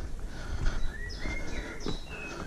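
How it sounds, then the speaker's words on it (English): Birds chirp and whistle in short bright calls against steady outdoor background noise, fairly faint and scattered. "Hear the birds."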